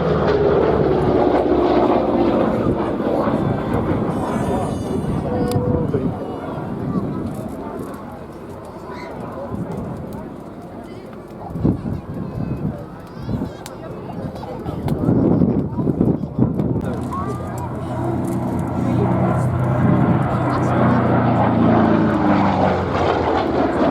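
A P-47 Thunderbolt, a big seven-ton fighter in 78th Fighter Group colours, flies at the Duxford summer airshow, its heavy propeller-engine roar loud and continuous, swelling and fading as it passes, with crowd noise and talk underneath.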